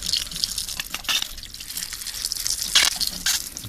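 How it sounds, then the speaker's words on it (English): Water being poured into a bicycle's motor, a hissing, splashing gush that comes in several uneven bursts, close and fairly loud, with no talk. "putting water in the motor"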